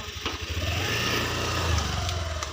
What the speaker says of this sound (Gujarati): એક્ટિવા ઊભી કરી દીધી પાર્કિંગ